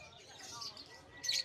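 Lovebirds at the Hulong Duhat Plaza pet market in Malabon give faint, high chirps, with a brighter cluster of tweets near the end, while people talk nearby.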